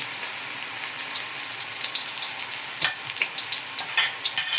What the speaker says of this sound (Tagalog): Nagpainit na tayo ng mantika at may bawang na tayo at sibuyas. Ilalagay na natin.